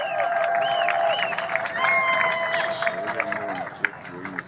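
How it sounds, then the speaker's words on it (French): A large crowd at a religious march applauds and cheers together, a dense roar of clapping and voices that holds steady throughout. "Applaudissez pour vous-même."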